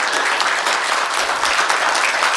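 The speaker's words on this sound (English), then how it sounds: "Can we give him a round of applause?" A crowd at a game convention panel claps steadily, a dense burst of applause throughout with no voices standing out.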